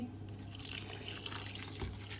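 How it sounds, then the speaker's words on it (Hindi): Water pouring into a cooking pot holding chicken, onions and tomatoes with chili, salt and turmeric, a steady splashing stream lasting a couple of seconds, close and moderately loud. "इसके साथ थोड़ा पानी डालूंगी"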